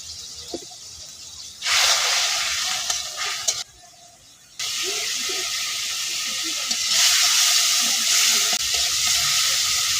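Spice paste with salt, chilli powder and green chilli fries in a pan, a loud hissing sizzle that cuts out briefly, then resumes and swells, with faint stirring beneath.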